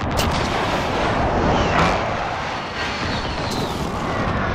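Artillery strike explosions in Call of Duty: Modern Warfare, a dense continuous roar of blasts and rumble with a few sharper cracks standing out, loud and sustained throughout.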